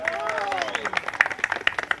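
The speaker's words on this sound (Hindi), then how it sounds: "पहले तो इनके लिए सब लोग ताली बजाइए।" An audience claps for Seema, a young woman from Azamgarh in Uttar Pradesh, at an event. The applause is a brief, dense burst of many hands at moderate loudness, mixed with crowd noise.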